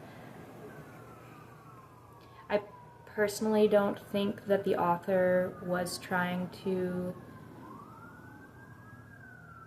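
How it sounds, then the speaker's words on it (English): Sirens wail and warble in the distance under a person talking, the rising and falling tone audible before, during and after the speech. "sorry for the sirens"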